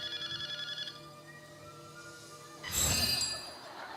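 A telephone rings with a trilling electronic tone at the start, followed by a bright clanging burst and a lingering ring, heard moderately close in a quiet indoor scene.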